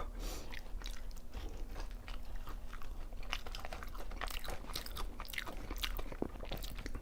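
Bites and chews of BBQ golden olive fried chicken and tteokbokki come through close and crisp, with repeated crunches and soft mouth sounds over a quiet background hum. No one speaks.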